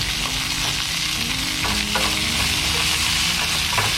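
Food frying in a small casserole dish on a compact camping stove, a continuous loud close sizzle with occasional stirring scrapes and a low steady hum beneath.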